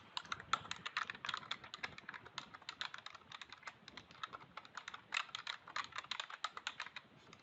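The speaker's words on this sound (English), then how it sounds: "From the Chat tab, I will type in a question." Close, rapid typing on a computer keyboard as a question is entered in a chat window, with quick irregular bursts of key clicks and brief pauses between words.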